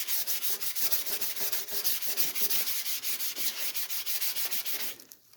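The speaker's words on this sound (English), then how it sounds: "So we can sand that back down gently now until those disappear." Steady back-and-forth strokes of hand sanding on fresh paint in a Ford Escort MK1 engine bay, close and rhythmic, continuing evenly before stopping near the end.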